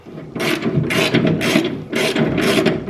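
A ratchet clicks in rapid bursts as it spins freely on a bolt whose weld has snapped inside a Lada 2106 car chassis, loud and close, with a steady repeating rhythm of about four strokes.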